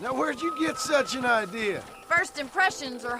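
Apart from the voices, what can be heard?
No everyday noises stand out.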